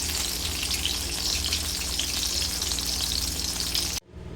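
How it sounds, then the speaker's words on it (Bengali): Eggplant frying lightly in hot oil gives a steady, loud, close sizzle that runs unbroken for about four seconds, then cuts off abruptly and leaves a quieter tail. "তো বেগুনটা আমি একদমই হালকা ভাজবো"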